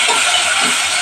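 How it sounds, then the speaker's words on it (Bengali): Chopped onions hit hot oil and sizzle, a loud, continuous hiss over about a second with no voices. "পেঁয়াজটা ভালো করে ভেজে নেব।"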